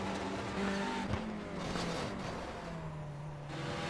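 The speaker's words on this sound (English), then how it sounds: "If you just listen to the engine note, he upshifts and then accelerates right into the side of me." A TCR race car at Imola revving hard, with engine notes rising through upshifts and a brief squeal of tires, heard close from inside a car over constant road and wind roar.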